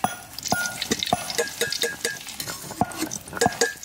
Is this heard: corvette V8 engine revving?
no